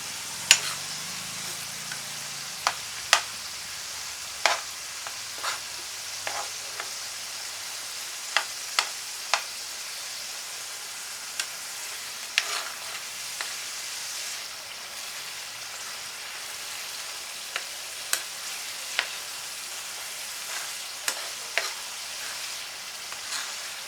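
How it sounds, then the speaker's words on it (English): A veggie sauce fries in a pot with a constant soft sizzle while a spoon stirs it, adding scattered scraping clicks and taps at irregular intervals. "Because stirring so that it will not burn."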